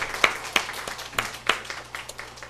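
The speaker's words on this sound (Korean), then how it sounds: "우리 하나님께 영광의 박수 올려드리도록 하겠습니다." Sparse, scattered clapping from a church congregation during a worship service, a handful of separate claps and light hand taps at moderate distance, fairly quiet and irregular.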